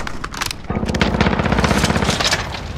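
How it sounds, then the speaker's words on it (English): A sentry gun in a free-for-all video game fires a rapid, sustained burst of close, loud automatic shots in a dense rattling rhythm, with sharp scattered game effects around it. "sentry gun on station"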